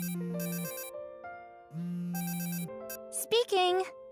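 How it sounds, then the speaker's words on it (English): Telephone in a video game ringing in repeated electronic bursts with pauses between them, followed by a brief answering voice near the end. "You're getting a lot of phone calls."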